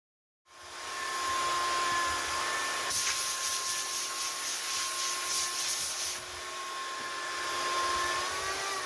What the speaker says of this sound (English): This is just the start from an awful lot of sanding.